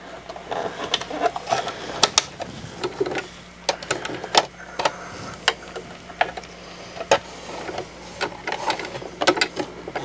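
A bobbin is being fitted back into a sewing machine, with irregular close clicks, taps and small mechanical clatters spread through the clip and no talk.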